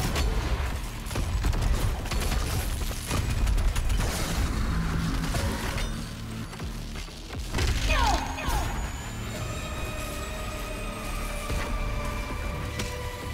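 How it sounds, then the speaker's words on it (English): In Doom Eternal, rockets from a rocket launcher fire amid chaotic combat: repeated booming blasts and crashes, with mechanical clanks and a rising whoosh, all layered over dense game music. "let's start using rockets"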